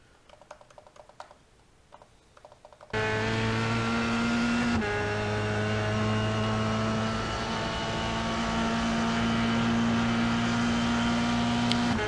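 Formula 3 race car on a lap at Canadian Tire Motorsport Park, quiet onboard noise suddenly giving way to a loud, sustained high-revving engine drone that shifts pitch once and then holds steady, close-up with no talking.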